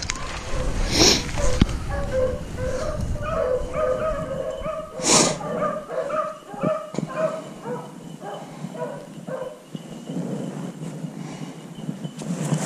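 Hunting dogs bay, yip and whimper while chasing cottontail rabbits on a frosty morning, barks coming in repeated bursts at middle distance with outdoor background noise throughout.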